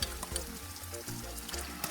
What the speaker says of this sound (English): So you just fry it up like this.